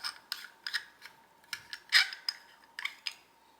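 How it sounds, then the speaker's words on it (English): Cap of a Eufy security camera wall mount being unscrewed by hand, a close, quiet series of short plastic rubbing and clicking scrapes in an uneven rhythm. "you unscrew this cap."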